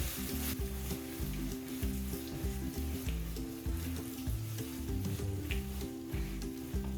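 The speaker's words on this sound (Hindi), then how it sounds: "प्याज को हमने तब तक फ्राई करना है जब तक कि ये गोल्डन ब्राउन कलर में ना आ जाए।" Onions fry with spices toward golden brown in a pan for Dhaba style egg masala curry, giving a soft steady sizzle under rhythmic scraping and stirring strokes, fairly quiet and without talk.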